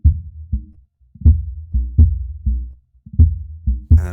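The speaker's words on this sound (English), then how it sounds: "And then the boom, if I click on this you can audition the sound." A deep boom sound in Ableton Live 11 auditioned repeatedly, about eight short punchy low thumps in a steady pulse with quick decays, loud and alone.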